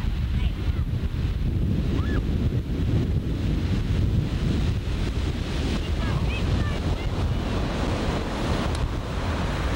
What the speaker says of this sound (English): This beach has quite a bit of undertow.